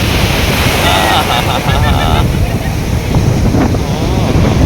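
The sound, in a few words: sea waves and wind at the shore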